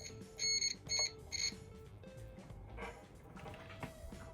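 Three short electronic beeps close together from a Sterling Cutlass, followed by faint background clatter and low hum.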